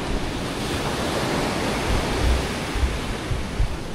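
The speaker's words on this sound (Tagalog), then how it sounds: "Maalon." Rough sea waves surge continuously along the shore of Siquijor Island, a dense, loud wash of surf with heavier swells breaking near the end, with wind on the microphone and no voices.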